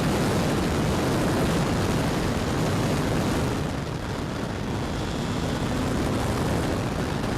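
A Timber X radio-controlled airplane flies by, with a steady broadband engine and propeller roar heavily mixed with wind buffeting, loud and continuous throughout.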